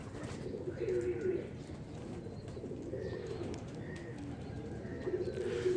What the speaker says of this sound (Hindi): बड़ा लाइट वेट, स्लिम स्मार्ट, बंद जोड़ों का कबूतर है।